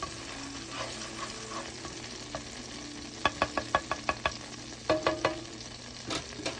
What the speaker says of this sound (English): I'm just going to mix this garlic around so it won't burn.